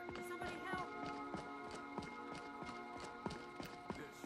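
Horse hooves gallop in a steady, rapid clip-clop rhythm in the Skyrim VR video game, heard clearly over a sustained tonal game background.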